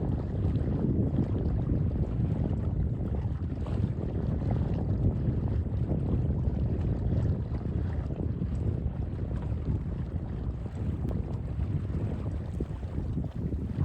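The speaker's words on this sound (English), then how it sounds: "So as I enter the cove, of course, the winds start to pick up a little bit." Wind buffeting a sailboat entering a mountain cove on a solo morning sail, a steady loud rush of wind and water noise with microphone buffeting, continuous throughout with no talk.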